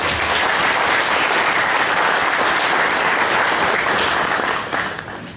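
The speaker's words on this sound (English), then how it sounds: "So let's please give them a round of applause." An audience at a county touchdown club awards ceremony gives sponsors a round of applause, loud sustained clapping that fades near the end.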